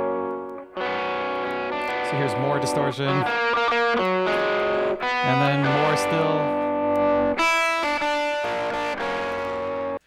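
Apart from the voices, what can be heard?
distortion effect from an audio compressor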